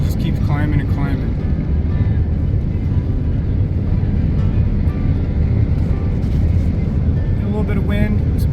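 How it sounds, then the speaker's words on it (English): An RV's engine drones steadily, low and loud, as the rig keeps climbing a mountain pass on the Old Spanish Trail, with a person talking over the constant rumble and some wind noise. "that low drone noise that your rig makes just as it just keeps climbing and climbing"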